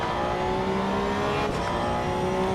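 Porsche GT3 Cup race car engine in the racing game Assetto Corsa Evo, a loud, steady high-revving drone with strong harmonics and a brief shift-like blip midway, heard alone without talk.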